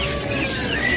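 A caged cucak mas or pitohui songbird calls with clear, high whistled tones over a constant noisy background, close and fairly loud for about a second.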